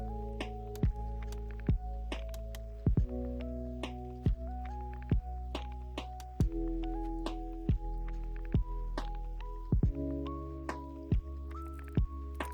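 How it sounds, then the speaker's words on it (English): Dismantling furniture in Project Zomboid produces a regular series of dull, close thunks, about one every second or so, each landing over a droning tonal background, with no talking. "while I'm dismantling objects, I'll be bringing the planks to the top of the stairs"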